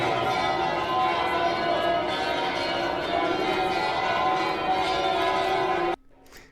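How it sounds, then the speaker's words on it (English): Church bells ring in Montreal as a dense, sustained peal with overlapping tones and a crowd murmuring beneath, loud and steady for about six seconds before cutting off abruptly. "Ring the bells harder. Keep going."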